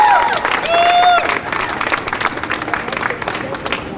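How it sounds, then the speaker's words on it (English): Applause and cheering from an audience at a student protest against corporate restructuring, a dense, loud wash of clapping with voices mixed in, fading slightly after the first second and a half but continuing throughout. "So give Adam Sanchez a big round of applause."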